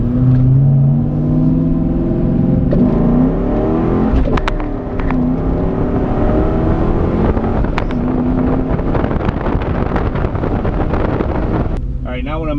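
A 2001 Ford Mustang Bullitt GT revs hard with its exhaust cutouts closed, giving a deep, continuous engine roar that rises and falls over several seconds, with heavy wind buffeting on the microphone.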